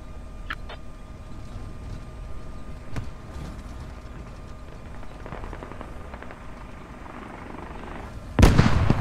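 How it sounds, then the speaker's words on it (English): A tank firing in the military video game Squad: scattered distant explosion thuds and crackles across a rumbling battlefield, ending in a sudden loud close blast near the end. "Oh shit, that tank just shot you out."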